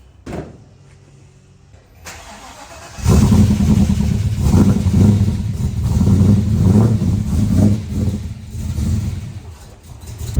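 A car door clunks, then a Ferrari engine cranks and fires into a loud, throaty idle with rising revs, rumbling close by.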